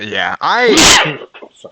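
A single loud sneeze bursts out mid-conversation during a commentated Magic: The Gathering Arena match, sitting between bits of speech and followed by quick, quieter talking.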